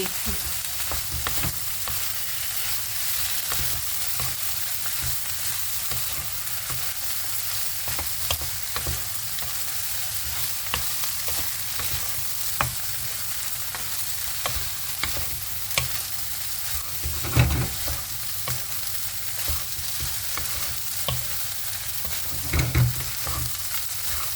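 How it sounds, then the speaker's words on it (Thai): Fried rice with crab sticks and egg being stir-fried over high heat, a continuous close sizzle broken by scraping spatula strokes and a few louder clanks, no talking. "เข้าผัดค่ะไฟแห้งๆเลยค่ะแบบนี้"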